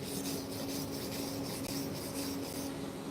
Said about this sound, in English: So now it's back to brushing.